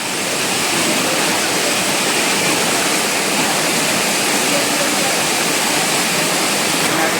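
A monsoon waterfall in the Konkan region near Ratnagiri roars loud and close, a steady, unbroken rush of falling water filling the whole stretch.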